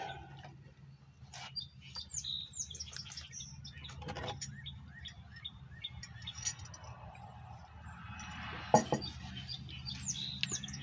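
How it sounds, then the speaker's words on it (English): Birds chirp and tweet in short scattered calls across a quiet morning outdoors, fairly distant, over a low steady background rumble, with a louder burst of calls near the end. "there's birds chirping in the background and everything"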